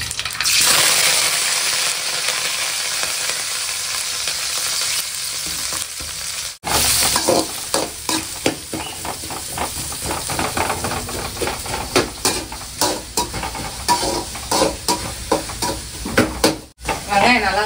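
Curry leaves and chopped onions frying in hot oil, a steady loud crackling sizzle with scattered sharp pops and stirring clatter, one brief break partway through.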